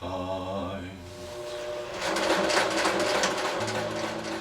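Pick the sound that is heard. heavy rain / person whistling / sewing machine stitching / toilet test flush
sewing machine stitching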